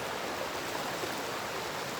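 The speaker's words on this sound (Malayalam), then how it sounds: "തോട്" A small stream beside a lakeside walking path rushes with a constant, even watery hiss, close and unbroken, with no voices.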